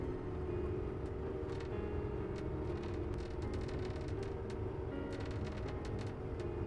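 Snow groomer working high on a Tahoe Donner mountain, blading snow drifts in flat light, a constant low engine rumble with a steady drone and no voices.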